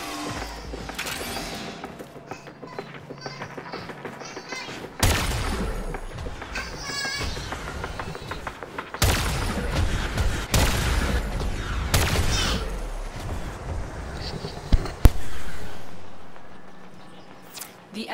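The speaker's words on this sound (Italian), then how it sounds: "Ma chi spara?" Repeated bursts of gunfire in the game Warframe, loud clustered volleys and thuds recurring across the stretch, with in-game voice lines mixed in.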